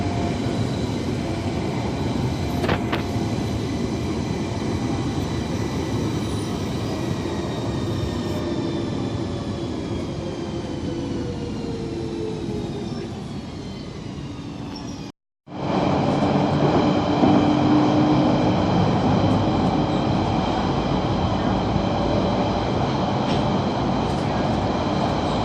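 Train carriage riding on rails, heard from inside the very last carriage: a loud, constant rumbling roar with metallic squeals, cut by a brief dropout midway before the rolling noise resumes.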